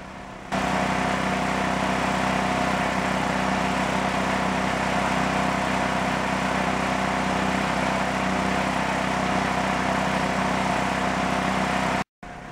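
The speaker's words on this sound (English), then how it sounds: "plug your load into one of them and just let the generator run for a minute" A used portable generator runs steadily under electrical load, its engine droning at a constant loud level with a low hum and mid-range buzz, unbroken for about twelve seconds before cutting off abruptly.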